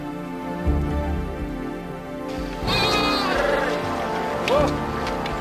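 Sheep or goats bleat in a pastoral scene over a dense background bed, with a wavering bleat in the middle and another short call near the end.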